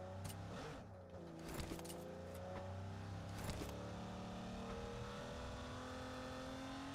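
A vehicle engine roars in PUBG Mobile during a tournament match, a loud continuous revving drone with shifting pitch and a few sharper bursts, with no talk over it.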